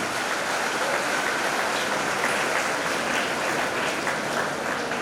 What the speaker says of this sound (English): A big round of applause for the student and teacher both.